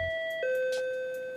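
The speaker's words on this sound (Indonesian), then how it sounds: "tiba-tiba dia dikejutkan dengan suara bel" Doorbell chime in a film scene, a sustained two-tone ding-dong with ringing overtones lasting over a second, clear and alone with no talk.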